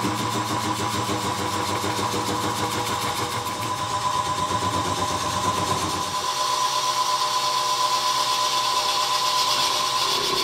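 A lathe spinning a large resin piece meant for a magnifying lens, making a steady mechanical hum and whir with a strong tonal drone. The motor note shifts partway through, then holds constant.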